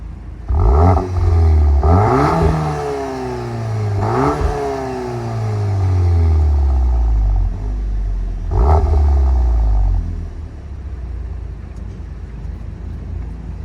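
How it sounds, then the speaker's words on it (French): A Volkswagen Golf 8 R with an Akrapovic exhaust, parked and set to eco mode, gets blipped four times, each loud rev rising sharply and falling back in long descending tones, then a steady idle. "La voiture qui nous est présentée ici dispose des échappements à Krapovic. Vous allez écouter ça, restez à l'arrêt."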